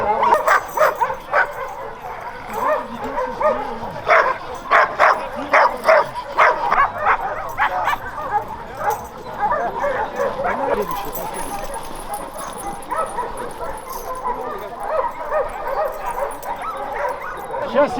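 Yakutian Laika dogs at a dog show, junior female class, giving repeated sharp barks and yips in bursts with some whimpering, fairly close, over steady crowd murmur and someone speaking.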